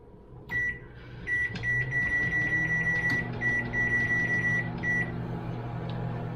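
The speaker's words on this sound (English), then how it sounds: "turn it on for 6 minutes." A microwave oven hums steadily for several seconds, with a sustained mid-pitched electronic tone and a few short beeps near the start, close and moderately loud.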